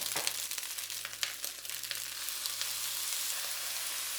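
Sauce hits beef fried rice in a hot pan, setting off a loud, steady sizzle that swells at the pour and holds throughout, with a few faint scraping touches and no talking.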